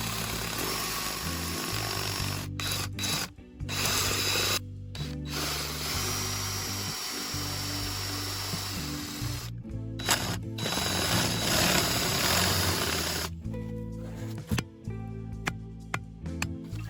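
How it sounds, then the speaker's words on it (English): Drill grinding out a stripped locking bolt from the wheel center cap on a 1991 Honda CRX, loud and close, running in long bursts with short pauses between. "so I had to drill it out"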